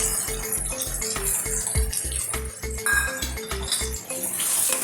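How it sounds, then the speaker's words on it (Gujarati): Chopped ridge gourd goes into a pan for a Gujarati vegetable dish, with close clinks and scrapes of a metal spoon against the pan in a quick, regular rhythm and no talking. "ત્યાં તુરિયાને સમારીને રાખ્યા છે એને અંદર ઉમેરીશું."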